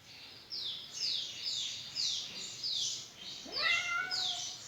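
A pet cat gives a quick series of about seven short, high meows, close and moderately loud, with a longer, wavering cry near the end in an otherwise quiet room.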